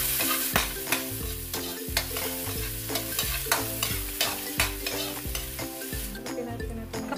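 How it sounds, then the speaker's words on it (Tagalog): Onion sautés with garlic in a hot pan for Bicol Express, a loud close sizzle punctuated by rhythmic scraping stirs roughly every half second, with no voices. "Sunod natin yung ating sibuyas. Igisa lamang po natin siya."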